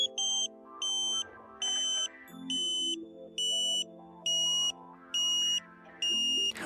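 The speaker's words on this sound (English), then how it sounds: "You must hear the tone drop a second time." A satellite finder meter beeps while a Ka-Sat dish on a mid pole is being aligned: a loud, steady series of about eight evenly spaced electronic tone bursts, with a shift in pitch partway through, heard alone without talk.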